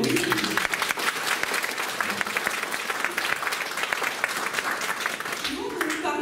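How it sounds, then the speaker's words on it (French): Audience applause at a sleep apnoea conference for two hospital doctors, dense and steady clapping throughout with voices emerging briefly near the end. "on peut les applaudir,"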